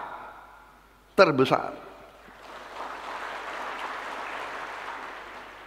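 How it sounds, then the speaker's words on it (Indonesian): An audience of teachers and school heads breaks into applause after a spoken address, a steady wash of clapping that starts just after a brief loud vocal burst and continues at a moderate, even level. "Jangan terlalu cepat tepuk tangan"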